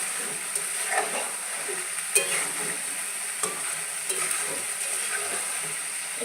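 Chicken pieces frying in hot oil for a sweet and spicy Korean chicken dish, a steady bright sizzle with occasional utensil clinks and stirring scrapes.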